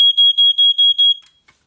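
Two ionization smoke alarms, including a First Alert SA150LTA, beep together in six loud, rapid piercing pulses, then stop abruptly with a faint click afterward.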